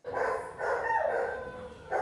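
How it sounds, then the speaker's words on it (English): Dogs at an overcrowded North Texas animal shelter, some housed outdoors, let out several loud, drawn-out barks and howl-like yelps in bursts, close by. "The barks you hear are calls of hope."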